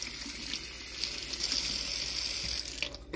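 A kitchen tap runs steadily while an acorn squash is rinsed under it, a close, even splashing hiss that grows slightly fuller midway and breaks up near the end.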